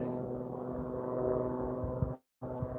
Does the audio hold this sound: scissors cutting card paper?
no